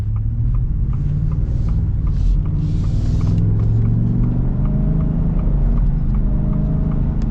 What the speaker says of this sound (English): this V8 sounds good